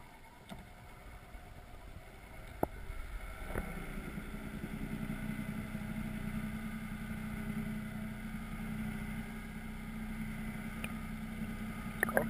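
Underwater, a boat's motor drones steadily with a low rumble and hum, and a few sharp knocks come early on, heard below the surface near a salmon fishing spot.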